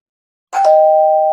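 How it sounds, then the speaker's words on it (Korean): A home doorbell sounds once in a quiet room, a single close chime whose steady tone rings on clearly and alone after a moment of silence. "초인종이 울렸습니다."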